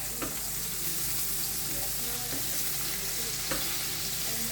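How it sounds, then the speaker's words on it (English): Butter melting and frying with bacon and onion in a pan, a steady close hiss of sizzling with a few soft stirring knocks, alone without talk. "I'm going to add about a tablespoon and a half of, butter. So let's let that get melted along with the bacon"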